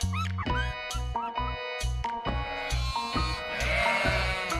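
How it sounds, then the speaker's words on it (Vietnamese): A sheep bleats in several short, nasal calls with pauses between them, close and fairly loud, the last cries rising and growing more strained. "Con cừu."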